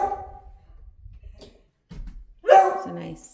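Puppy barking indoors in a humid house with Berber carpet, a short sharp bark bursting out loud near the end after quieter shuffling noises.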